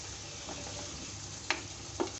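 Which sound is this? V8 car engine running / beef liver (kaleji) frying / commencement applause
beef liver (kaleji) frying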